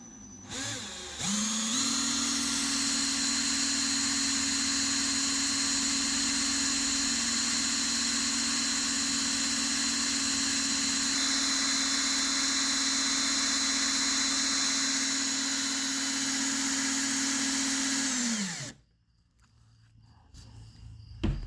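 Power drill spinning a polishing rag clamped in its chuck while cleaning up an Elsinore fuel valve: a loud, steady motor whine that runs for about seventeen seconds before spinning down, with no talking.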